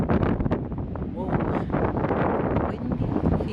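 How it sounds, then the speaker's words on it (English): Strong wind gusts buffet the microphone at Niagara Falls, a steady loud rumble with people talking over it. "Windy. He say windy."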